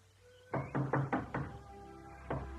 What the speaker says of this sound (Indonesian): Tidak ada yang mendengar ketukan pintu ini.